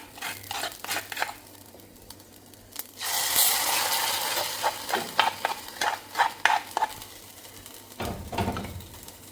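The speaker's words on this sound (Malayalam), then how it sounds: "ഇത് ചെറിയുള്ളിയും കറിവേപ്പിലയും കൂടിയുള്ള വറവാണ്" Shallots and curry leaves tempered in hot oil hit a sardine curry in a Kerala kitchen, giving a sudden loud sizzle that settles into crackling and popping, with a few clinks of a utensil against the pan.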